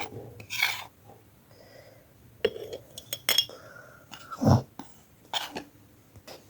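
A spoon clinks and scrapes against a jar while finely ground powder is tipped in. Several sharp, quiet taps and rasps come at irregular intervals, with no talking.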